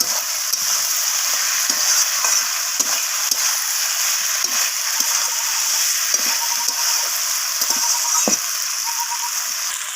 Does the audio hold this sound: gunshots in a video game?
no